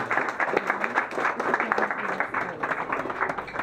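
An audience at a charity running event wrap-up in Tarnobrzeg breaking into sustained applause, dense rapid hand claps from many people filling the room at a steady loud level.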